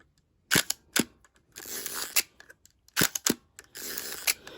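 Sharp mechanical clicks of a Hasselblad V-system medium format camera shutter alternate with ratcheting, whirring winds of its film-advance crank, in two similar cycles, close and crisp.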